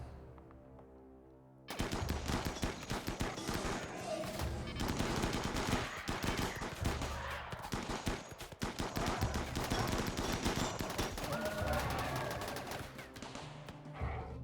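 Rapid bursts of automatic gunfire and turret shots in the colony-building game RimWorld, loud and continuous after a quiet opening, with machine-gun rattles layered over background game music.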